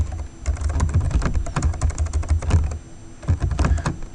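Rapid keystrokes clatter on a computer keyboard as code is typed, dense bursts of clicks with a short pause before typing resumes, close and clear.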